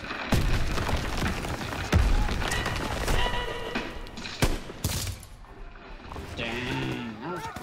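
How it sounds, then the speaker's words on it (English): Bursts of rapid gunfire and booms from Call of Duty: WW2 echo across a busy, noisy scene, fairly loud, with no clear voices standing out. "Gunfire! Must be near our guys."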